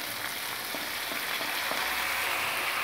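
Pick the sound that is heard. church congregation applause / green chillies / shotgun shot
green chillies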